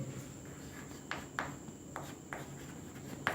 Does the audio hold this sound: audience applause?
no